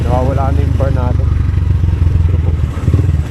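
A sportsbike motorcycle engine runs steadily with a low, throbbing drone, close by and continuous, while a person talks over it.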